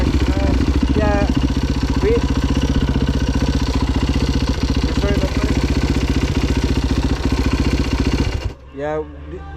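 Dirt bike engine in the Philippines, a loud close rhythmic chug running steadily before cutting off abruptly near the end, with voices talking over it.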